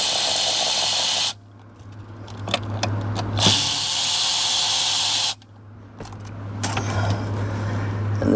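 A power tool works bolts loose from the motor-driven power steering motor of a 2024 Kia Sportage: two loud, sustained hissing whirs separated by a lull with scattered clicks and metallic clinks.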